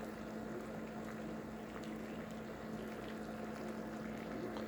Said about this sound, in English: You can hear it. You can hear it bubbling.